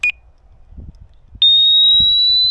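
A short electronic beep from an Abus mobile alarm box on an e-scooter, a pause with faint clunks, then a loud, piercing continuous high-pitched siren tone begins and holds steady nearby.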